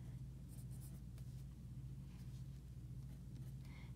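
Pen or pencil writing numbers by hand, soft scratchy strokes in short bursts over a steady low hum, close and quiet with no talking.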